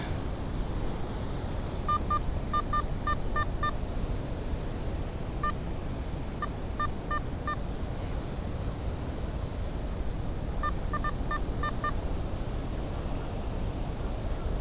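A Nokta Simplex Lite metal detector sounds short bursts of repeated high beeping tones on a beach, in clusters spaced apart over steady wind and surf rumble, with no voices.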